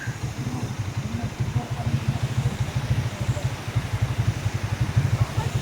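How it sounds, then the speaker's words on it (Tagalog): Motorcycles idling at a roadside stop with a view in La Union, Philippines, thrum with a low, even putter of rapid pulses that stays steady and fairly close throughout. "Yan ang aming mga motor."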